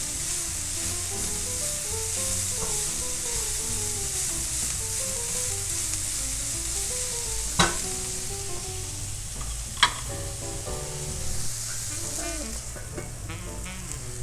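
Shredded coleslaw, wilted and lightly browned, sizzles steadily in a hot pan with a continuous hiss, broken by a couple of sharp scrapes as it is stirred; no one speaks.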